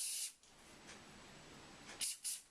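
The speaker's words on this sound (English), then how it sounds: "Give it a little spray." Several short hisses of hairspray land on a Dutch flower braid: one burst at the start, a faint puff in the middle, then two quick bursts near the end, all quiet and close.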